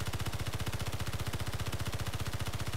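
Rapid automatic machine-gun fire from the game Space Engineers, a steady unbroken stream of loud, evenly spaced shots lasting the whole burst.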